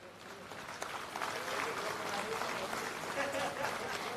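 Applause from a workshop audience during a felicitation ceremony for a state chief secretary, a soft, distant, continuous patter of many hands with faint crowd murmur beneath.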